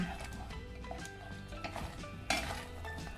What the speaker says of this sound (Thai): จากนั้นนะคะเราก็จะค่อยๆ ทยอยใส่ไปคนไปนะคะเขาจะได้ไม่เป็นก้อนค่ะ